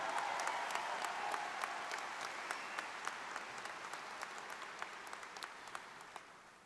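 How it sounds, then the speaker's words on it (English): Audience at a Centennial High School graduation ceremony breaks into a sustained round of applause, dense steady clapping from a large crowd with no talk over it. "Please give them another round of applause."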